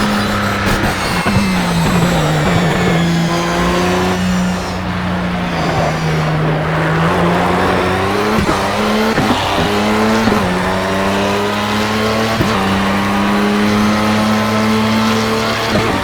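A race car in the Project CARS video game roars continuously at high revs, its engine pitch climbing and dropping through gear shifts, with tires squealing through corners, loud and close throughout.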